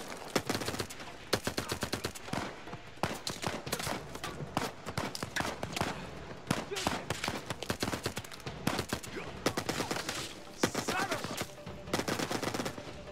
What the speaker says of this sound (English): The guns sound awesome,